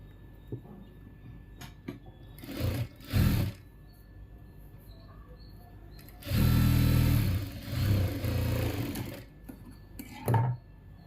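A sewing machine stitching trim onto a blouse runs in several short bursts of fast mechanical whirring, with quiet handling clicks and pauses between runs, close up and with no talking.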